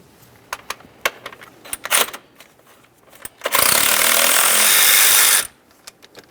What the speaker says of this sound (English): We can start removing these 3 8mm headed bolts.